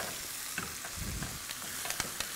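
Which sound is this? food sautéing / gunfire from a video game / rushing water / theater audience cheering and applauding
food sautéing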